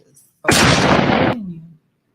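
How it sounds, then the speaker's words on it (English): A gunshot sound effect goes off as one loud, sudden blast with a harsh broadband burst that lasts about a second and then decays into a low ringing tail. "I'm looking for the gunshot."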